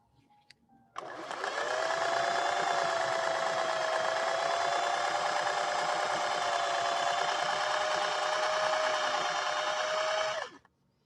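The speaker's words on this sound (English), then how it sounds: "The next stitch that Sibel picked." A 1961 Singer 401A sewing machine runs a decorative stitch in one continuous close whirring, humming burst of about nine seconds after a brief start, then stops, with no talk over it.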